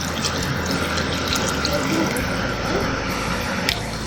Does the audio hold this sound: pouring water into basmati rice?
yes